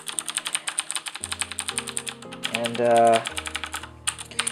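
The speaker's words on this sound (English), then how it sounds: "as you can hear, it does have a nice tactile feedback. Pushing the keys feels very light" Keys on a Razer BlackWidow mechanical gaming keyboard are pressed in a quick, steady run of light tactile clicks, heard close up over background music with brief speech.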